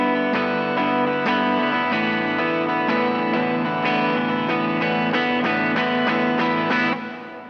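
A distorted rhythm guitar strums sustained chords with effects in a steady, loud, dense wash, then cuts off abruptly as the strings are muted at the end.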